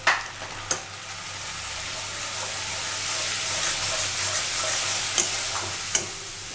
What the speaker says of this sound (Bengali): মশলাটা আমি ভালোভাবে কষিয়ে নেওয়ার সময়